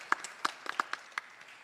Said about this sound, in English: Please give Kaysie a round of applause as well.